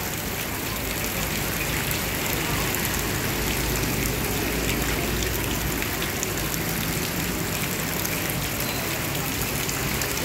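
Morning rain falls in a steady, even wash of dense patter that stays constant for ten seconds, with no voices heard.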